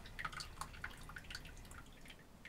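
Tea dripping from the threaded, half-open lid of a flask in a taiga setting, a quiet series of small, irregular drops falling close by over faint background noise.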